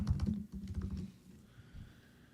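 Keys clatter on a computer keyboard in a quick, close burst of typing that fades into a few faint taps.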